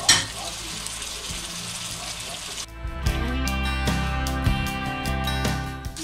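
Chopped tomatoes hit hot ghee with a steady close sizzle for the first few seconds, then tonal background music takes over while soft frying continues underneath.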